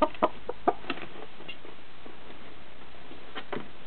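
Hens cluck inside a hen house in a few sharp, close bursts at first, then fall quieter, with scattered softer clucks against a faint background hum.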